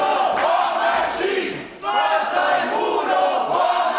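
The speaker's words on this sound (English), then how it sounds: "You can hear it's a split decision here in Festsaal-Kreuzberg in terms of crowd support" A wrestling crowd at Festsaal Kreuzberg in Berlin shouts and chants loudly, split between two sides, rhythmic group yells rising and falling with a brief dip before surging back.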